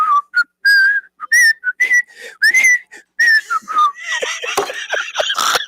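A person whistles a short melody in clear, bright notes, with breathy pauses between phrases that turn rougher and airier toward the end.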